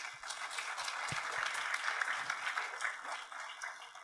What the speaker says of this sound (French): On acclame très fort pour cette réponse.